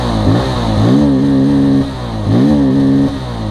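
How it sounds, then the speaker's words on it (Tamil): A 2024 Bajaj Pulsar N250 motorcycle's exhaust note while riding, loud and close, revving up through the gears with two rising pulls and brief drops between shifts. "ஸோ வழக்கம் போல் நம்ம எக்ஸாஸ்ட் நோட் கேட்டு அப்படியே போகலாம் வாங்க."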